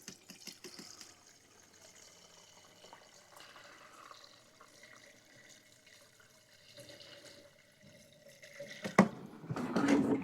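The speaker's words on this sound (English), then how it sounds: "We'll throw some good ethanol-free fuel in it." Ethanol-free fuel poured into the fuel supply of a Ferris IS3000Z zero-turn mower: a faint, quiet trickle and glug of liquid for several seconds, ending with louder splashing and handling noises, no speech.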